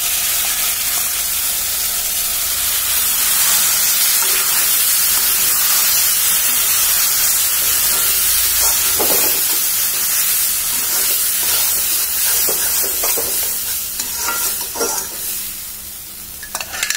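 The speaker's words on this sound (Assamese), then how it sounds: "ভাজা হৈ গ'ল এতিয়া দিম বইল কৰি লোৱা দালিখিনি" Boiled chickpea dal goes into a hot pan with fried ginger, garlic and spices, setting off a loud, steamy hiss and sizzle that stays steady, with stirring scrapes and clatters in the later part.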